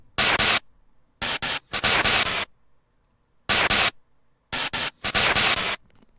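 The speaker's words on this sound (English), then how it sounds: "it's like a white noise percussion sound and then also a reversed hi-hat" Layered white noise percussion hits with a reversed hi-hat in a beat loop, bright hissing bursts in two repeating groups, short clustered strikes separated by near silence.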